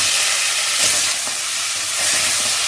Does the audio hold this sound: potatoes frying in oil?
yes